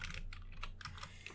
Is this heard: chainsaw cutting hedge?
no